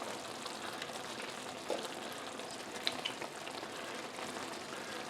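A teaspoon of butter melting into a pan alongside pork with apples and onions, giving a steady dense sizzle with a few faint pops and crackles; no talking.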